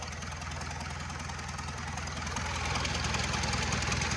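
Wheel loader diesel engine running during a test after repair, with the intake manifold not yet fitted, giving a steady, loud, close idling rumble with rapid knocking pulses that swells slightly toward the end.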